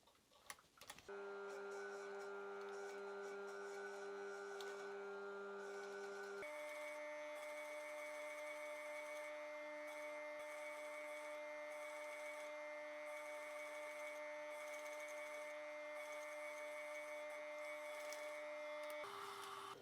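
A sewing machine stitches a line along the edge of corset bra cup fabric, a steady mechanical whirr running almost unbroken, with a brief pause and a change in pitch partway through.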